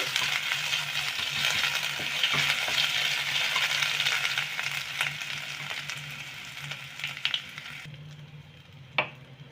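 Chopped garlic fries lightly in a pan for chole, a close steady sizzle with light stirring taps that fades near the end before one sharp clink.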